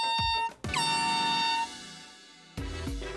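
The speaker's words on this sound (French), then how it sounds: "Comme j'ai plus de klaxon, je me trimballe cette petite sirène à air." A small handheld air horn, carried in place of a broken car horn, blasts two long loud tones, then a third starts after a short gap, with no talk.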